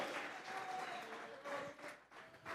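Congregation in a church clapping together as an offering of praise, a steady patter of many hands at moderate distance, somewhat faint, with voices mixed into the applause.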